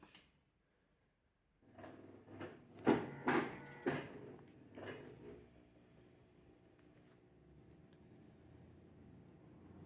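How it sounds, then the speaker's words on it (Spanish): A Whirlpool washing machine on its spin cycle, faulty and making a noise: after a brief silence the drum starts up with a series of loud knocking thumps, then settles into a steady mechanical hum. "solo exprima y puedan escuchar ustedes el sonido al que me refiero"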